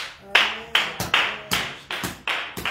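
A congregation at a morning prayer service claps loudly in a steady, forceful rhythm, about seven sharp, close claps in under three seconds, each with a short ringing decay, and no talk over them.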